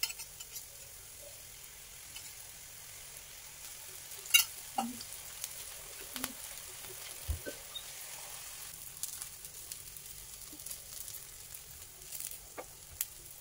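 Moong dal dhirde batter sizzles faintly on a hot tawa, a soft steady frying hiss with a few scattered clinks and taps, no talking.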